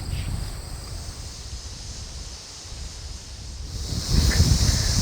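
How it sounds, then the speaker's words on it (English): Strong wind battering a hunting tree stand: a steady low rumbling rush with a faint hiss that swells louder toward the end, with no voices. "It is super windy up here in this tree"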